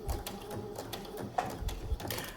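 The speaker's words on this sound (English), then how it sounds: "Back stitch at the beginning and sew all the way across." A sewing machine stitches across a hem facing on a button-down shirt, a faint, steady mechanical whir with small rhythmic ticks.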